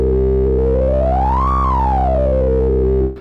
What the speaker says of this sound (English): That's the sine wave shaper.